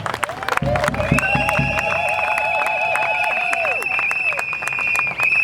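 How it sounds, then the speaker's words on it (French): Wedding guests clapping and cheering for the newly married couple, a loud burst of applause and crowd noise mixed with tonal whistles or music, with a voice talking over it. "Est-ce qu'on peut applaudir très très fort pour eux?"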